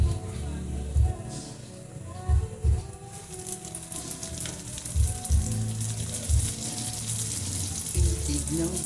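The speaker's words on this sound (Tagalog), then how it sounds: "nagiinitan tayo ng mantika" Cooking oil heats in a pan before galunggong fish lumpiang shanghai is fried, giving a continuous sizzling hiss that runs throughout, broken by occasional low thumps and clatter from the kitchen.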